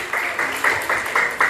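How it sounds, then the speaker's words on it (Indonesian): Applause for a teacher at a community gathering, a crowd clapping in a steady rhythmic pattern with regular loud beats, close and sustained throughout. "Tepuk tangan dulu Bu Andi."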